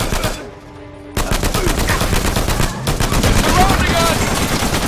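Rapid automatic gunfire and shotgun blasts from a chase-scene shootout in the video game Uncharted 4: A Thief's End, loud and continuous with shouting voices mixed in throughout.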